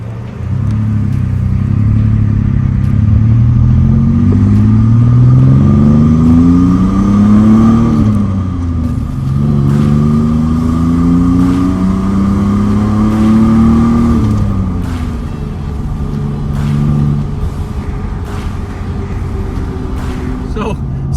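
A supercharged Ford Ranger pickup with a 4.0 SOHC V6 drives and accelerates, its engine note rising in pitch through two long pulls with a gear change between, loud and close from inside the cab, with talk over it.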